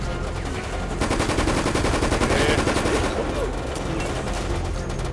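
Rapid automatic gunfire rattles continuously in the Resident Evil: Operation Raccoon City video game, loud, dense bursts of shots blending into a steady barrage throughout.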